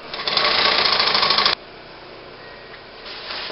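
Sewing machine double-stitching the webbing on a hovercraft finger skirt, a loud steady close-up whir for about a second and a half before stopping abruptly, followed by a quiet room.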